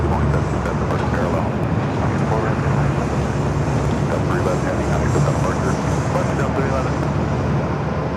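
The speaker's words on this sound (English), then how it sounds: "Southwest flight 3699 coming from Reno" A Southwest Boeing 737-800 arriving from Reno at LAX gives a loud, steady jet roar that fills the whole stretch, with a voice speaking over it.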